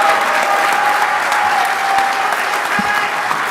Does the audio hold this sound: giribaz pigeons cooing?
no